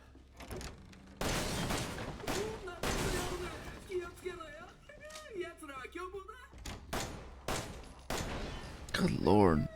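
Gunfire in the video game Resident Evil 7, a run of loud sharp shots spread through the stretch, mixed with game voices, music and other effects.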